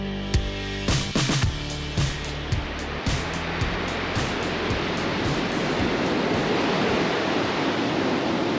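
Pacific Ocean surf roars in a broad, steady wash that builds and stays loud, with sharp knocks and thumps close by in the first few seconds.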